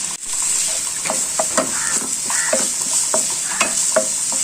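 Drumstick leaf cutlet mixture with potato sautéing in a pan, with a bright continuous sizzle and a series of distinct scraping stirs at an uneven pace, close up and without voices.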